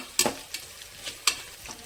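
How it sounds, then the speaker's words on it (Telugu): Onions and curry leaves frying in a pan, soft sizzle broken by a few sharp stirring scrapes at irregular intervals, close and fairly quiet, with no voices. "ఆనియన్ కాస్తంత కలర్ చేంజ్ అయ్యే వరకు వేయించుకోవాలి కరివేపాకు వేసి వేయించుకోవాలి"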